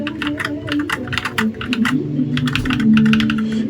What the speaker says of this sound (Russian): Давайте послушаем тайпинг.